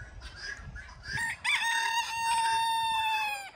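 A rooster crows once on a rural farm, a clear, fairly close call with a rising then sustained tone, standing alone without talk.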